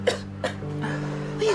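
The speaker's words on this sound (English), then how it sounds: "Why are you still coughing so badly?" A person coughs badly indoors, with two sharp, close coughs followed by a softer strained throat sound.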